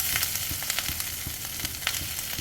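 Shallots and garlic fry in hot coconut oil in a pan, giving a close, steady crackling sizzle with frequent small pops and spatters throughout.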